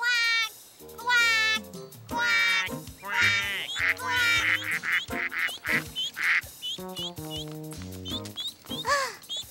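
Animated cartoon ducks at a zoo pond, a colorful drake among them, quack in a busy, overlapping chorus of nasal, pitch-bending calls that runs almost without pause, loud and close.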